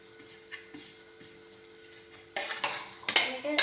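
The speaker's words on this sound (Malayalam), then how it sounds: "നന്നായിട്ട് തന്നെ മിക്സ് ചെയ്ത് കൊടുക്കാം" A spoon stirs chana masala in a pan after garam masala goes in, with faint scrapes at first, then louder rapid scraping and light sizzling toward the end, close and alone without talk.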